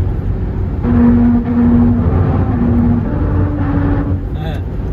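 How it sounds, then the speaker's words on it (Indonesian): From inside a 2005 Toyota Innova, the tires roll over a musical road in the Ngawi area, producing a sequence of steady humming tones under the loud cabin rumble and road noise. "Ini kita akan melewati Jalan Bernada nih"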